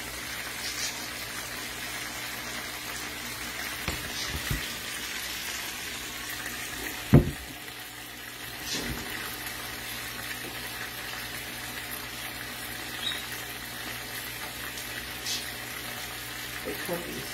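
Thick-cut chuck steaks sear in a hot pan for a Puerto Rican dish, with a faint, steady sizzle running throughout, a sharp clatter near the middle, and occasional soft taps.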